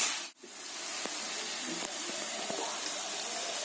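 Bottle gourd frying in ghee with cashews and raisins gives a soft, steady sizzle and hiss in a pan, with a few faint clinks of a utensil against the pan.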